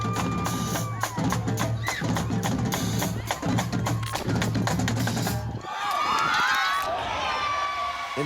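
A crowd of students cheering and yelling at a high school basketball game, with running footsteps and thuds on the court under a loud, steady roar, then a burst of shrill whoops and shouts near the end.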